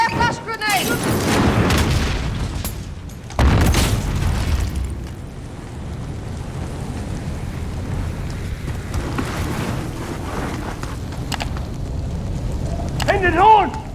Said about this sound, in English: Try a flash grenade!